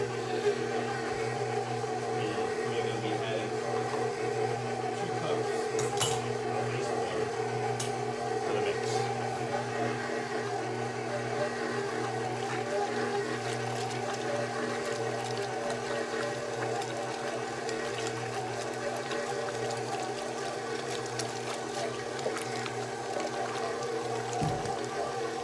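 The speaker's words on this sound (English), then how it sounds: "Just using the paddle attachment on my mixer is more than fine." A stand mixer fitted with a paddle attachment runs steadily while mixing lemon square batter, a continuous motor hum and whir that holds at a constant level throughout with no voices.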